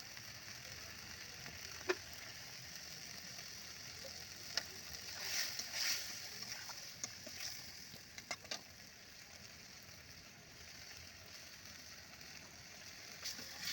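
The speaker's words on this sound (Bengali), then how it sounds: "মশলা দিয়ে এবার আলুটা কষাচ্ছি" Potatoes sauté with spices in a pan, a faint, steady sizzle with scattered light clicks and scrapes of stirring, quiet and close, with no voices.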